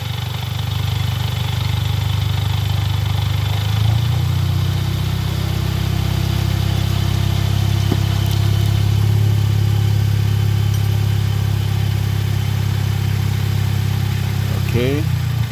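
Car engine with a DSG7 seven-speed dual-clutch gearbox running in sixth gear during a bench test without mechatronics, a steady loud low hum throughout with a brief click and rattle near the end.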